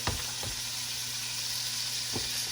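Lamb chops in a hot pan, just flipped, give a steady loud sizzle and crackle throughout, with a few soft scraping touches near the start and end.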